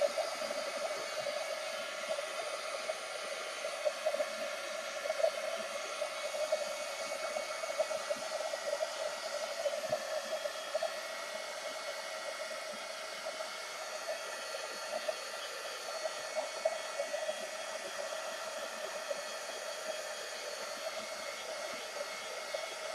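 A hair dryer blows steadily on an art journal page to dry the paint, a loud, continuous whooshing hum that runs unbroken and close for the whole stretch, with no one speaking.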